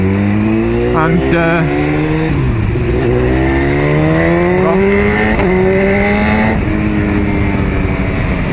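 Motorcycle engine revving and shifting through gears while riding in traffic, loud and close throughout, with rising and falling pitch as it accelerates, and a brief bit of talk over it.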